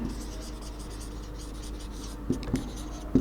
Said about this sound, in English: if I write over here honesty